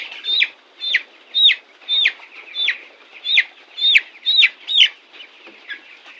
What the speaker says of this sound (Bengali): এই মুরগিটা ধরি